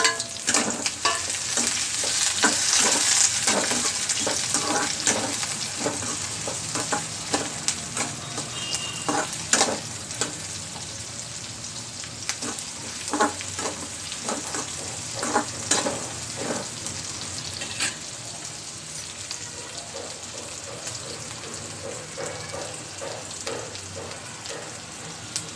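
Onions, green chillies and curry leaves fry in a hot pan with mustard seeds, giving a loud bright sizzle at first that settles into steady crackling, with frequent clinks and scrapes of a stirring spoon.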